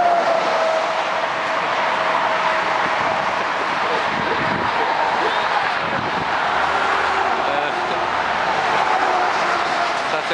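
Steady, dense roar of heavy traffic beside a petrol station in Bielany, Poland, a constant broadband rumble with vehicles passing continuously and no pauses.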